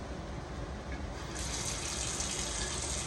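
Cold water pouring into a gravy mix for Southern-style stew chicken, a steady close gushing stream that grows brighter and fuller partway through, with no talking.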